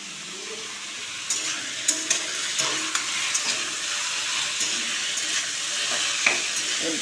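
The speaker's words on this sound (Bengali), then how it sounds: "আলুটা ভেজে নিয়ে হবে।" Potatoes frying in a pan with three dried red chillies, giving a steady close sizzle broken by sharp crackles and pops from stirring.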